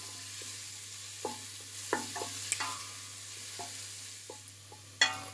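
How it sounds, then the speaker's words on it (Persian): Chopped onions sautéing in a pan for spinach soup give a soft, steady sizzle under a low hum, broken by scattered spoon scrapes and taps at uneven intervals. "تفت میدیم تا پیاز ها کمی"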